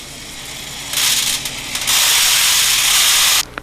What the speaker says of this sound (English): Pour the remainder of the shot from the holding container over the sample, allowing the excess shot to flow over the top of the beaker into the pan.